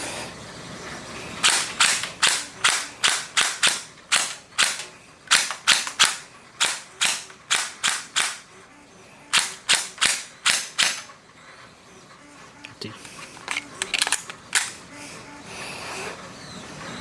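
A 3DG gel blaster fires rapid sharp snapping shots in bursts of several, close and loud, with short pauses between volleys and quieter mechanical clicks toward the end.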